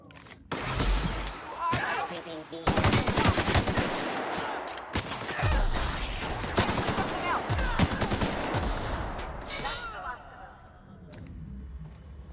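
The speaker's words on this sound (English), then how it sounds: "Helps if I shoot the right person." Rapid gunfire from The Outer Worlds: Spacer's Choice Edition, with loud bursts of shots and fusillades packed densely through most of the stretch before fading near the end.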